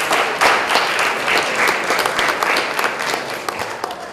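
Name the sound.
audience round of applause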